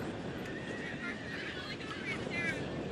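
Racehorses at a point-to-point championship lining up for the start, with a horse whinnying over a busy outdoor background and faint murmur of people nearby.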